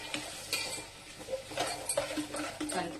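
A spoon stirring sambar in a metal pot, with irregular scraping and clinking strokes close by over a faint sizzle.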